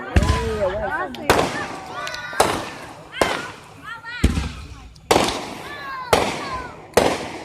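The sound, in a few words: fireworks exploding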